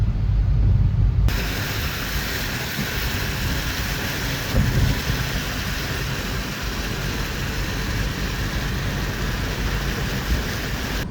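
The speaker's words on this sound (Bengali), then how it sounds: "বৃষ্টিটা হালকা এবার একটু ধরেছে" Heavy rain pours during a night highway drive, a constant roaring wash of water and road noise inside the car, with a brief heavier low rumble near the start and no talking.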